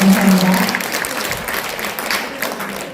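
Audience applause fills a hall during an awards ceremony for outstanding legislators, a steady mass of clapping with a faint low hum in the first moments.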